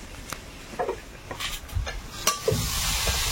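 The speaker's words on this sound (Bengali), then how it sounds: "ডাঁটা আর আলুটা ভালো করে ভাজা হয়ে গেছে" Stalks and potato are stir-fried in a pan, with a quiet sizzle under irregular scraping and clinking stirring strokes that build toward the end.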